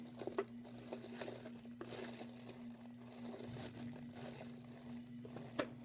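A plastic bag standing in for the diaphragm in a homemade respiratory system model crinkles and rustles softly in a few quiet bursts, close by, with no talking.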